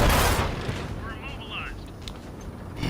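Tank gun firing in the World of Tanks video game, a single loud, sharp blast at the very start that decays over a fraction of a second, followed by quieter game ambience with faint whistling effects.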